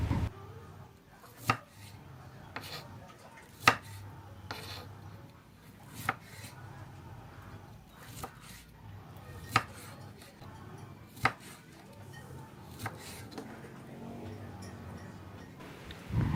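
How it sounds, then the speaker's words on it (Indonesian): A knife chopping green tomatoes on a cutting board, with steady, evenly spaced sharp knocks over a low kitchen background, close and moderately loud. "Selanjutnya, potong-potong tomat hijaunya selera saja."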